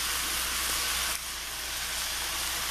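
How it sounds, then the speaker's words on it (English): Capers hit a hot pan of Mediterranean-style chicken over a high flame, giving a loud, bright hiss that dips slightly partway through and then settles into a steady sizzle. "Throw the capers in."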